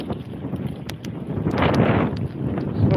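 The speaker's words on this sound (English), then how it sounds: "It's so windy out here." Gusty wind buffets a nearby microphone with a low, rumbling roar that swells and fades, no voices over it.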